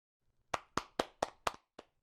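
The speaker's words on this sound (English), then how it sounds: "Please all clap." Sharp, crisp claps at a keynote event, about six evenly spaced strokes in a steady rhythm, close and distinct against near silence rather than a full crowd roar.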